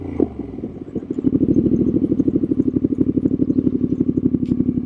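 A Triumph Street Scrambler 900 motorcycle engine thumps in a fast, steady pulsing rhythm, close and loud after a brief quieter start.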